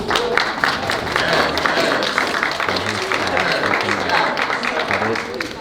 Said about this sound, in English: So can we get some claps?